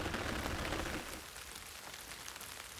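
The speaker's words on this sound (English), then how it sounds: "Woke up the next morning to rain." Steady rain falling on a surface, a dense hiss that is louder for the first second and then settles to a softer, even patter; no voices.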